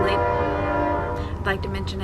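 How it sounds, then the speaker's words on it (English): A passing train holds a steady, loud horn blast for about two seconds. A low rumble runs beneath it, with a few brief clanking accents near the end, heard in the background of an indoor setting. "trains in the background every once in a while"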